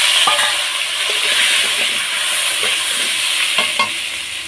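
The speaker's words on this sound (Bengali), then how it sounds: "2টো মিডিয়াম সাইজের আলু কেটে নিয়েছি ঝোলে দেবো বলে, সেগুলো ভেজে নেব।" Two medium-sized cut potatoes fry in mustard oil in a wok, a loud steady hiss and sizzle broken by a few soft scraping stirs.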